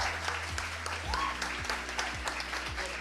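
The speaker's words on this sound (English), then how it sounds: "Guys, claps." Students at a Street Cause event applaud in a steady patter of claps, moderately loud, with a tonal music bed carrying on underneath.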